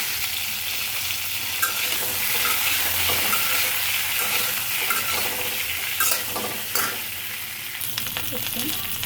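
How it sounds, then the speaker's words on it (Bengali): Boiled eggs fry with a little turmeric in oil in a kadai, giving a continuous bright sizzle close by, broken by repeated scraping and clattering stirs of a spatula. "একটু হলুদ দিয়ে দিচ্ছি, ডিমগুলো ভেজে নেব।"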